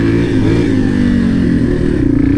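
A sport motorcycle engine runs loud and close while riding off-road, a steady buzzing drone with slight rise and fall in pitch over about two seconds.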